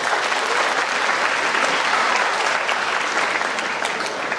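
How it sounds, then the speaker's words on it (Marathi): An audience at a school annual prize-giving ceremony applauds the students' performance, steady dense clapping that holds at full strength throughout without a break. "मनापासून त्या सगळ्या मुला मुलींसाठी टाळ्या वाजवा"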